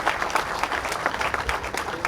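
Audience applause at a university music concert greeting a thumri singer, a dense, steady wash of many hands clapping that carries evenly through its short length with no voices standing out.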